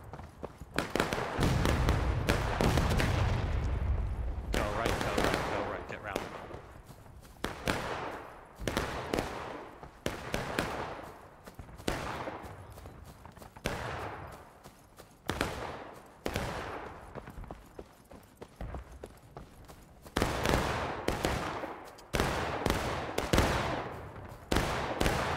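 Gunfire in a video game battle: repeated bursts of rapid shots and blasts over roughly 25 seconds, loud and constant with brief lulls between volleys.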